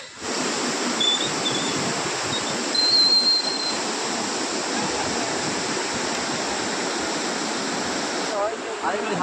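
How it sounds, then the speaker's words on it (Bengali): Water rushes through the gates of the Rondiha dam on the Damodar river, a steady, loud, broadband roar that continues without a break. "তোমরা হয়তো শুনতেই পাচ্ছ জলের কি আওয়াজ আছে প্রচণ্ড চাপ আছে জলের"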